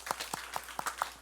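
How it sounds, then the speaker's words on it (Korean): A church congregation at a Sunday service claps in applause, a steady run of distinct claps at an even pace, fairly faint and with no talking. "우리 박수로 하나님께 영광 돌리겠습니다."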